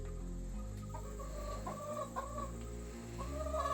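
Backyard chickens and a young rooster cluck softly during morning feeding, several short throaty clucks over a steady low outdoor rumble, moderately close and fairly quiet.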